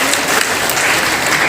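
Loud, close audience applause at a street magic show, a brief dense burst of clapping filling the moment without any talk over it.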